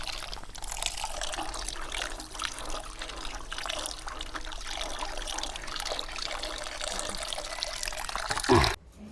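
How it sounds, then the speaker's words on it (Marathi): Freshly picked amla gooseberries washed in clean water, a steady close trickle and gentle splashing throughout, ending with a brief clatter. "आता काढलेल्या आवळ्यांना एकदा स्वच्छ पाण्याने आपण धुवून घेणार आहोत।"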